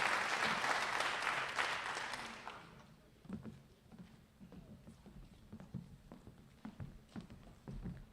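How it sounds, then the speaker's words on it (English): Banquet guests at a school agricultural program's spring dinner applaud a student, a brief burst of clapping that fades after about two seconds, leaving scattered taps and light thuds in a quiet room. "Let's give Grace a round of applause."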